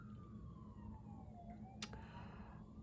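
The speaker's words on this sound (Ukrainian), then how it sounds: "Чуєте, оце пожежна, пожежні сигнали" A fire engine siren wails in the distance, a faint falling tone gliding under steady low background rumble, with a brief sharp knock partway through.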